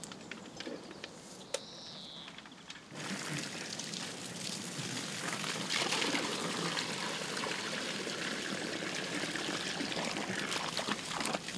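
A jet of water pours from a spout at an oasis, a steady loud rushing gush that swells in after a quieter stretch with a distant bird chirp.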